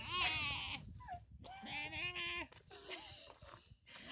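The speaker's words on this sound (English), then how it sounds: "Or this sheep?" Sheep bleating repeatedly outdoors on a hike in the Krkonoše mountains of the Czech Republic, with several loud, wavering bleats close by and short pauses between them.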